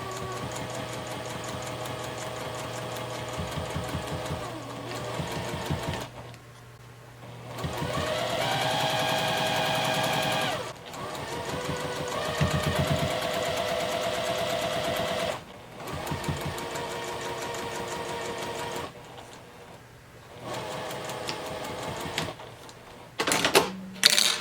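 Sewing machine stitching through three layers of a bag, a busy mechanical hum and needle clatter running in long bursts separated by brief pauses, fairly close and steady, with a few sharp clicks at the end.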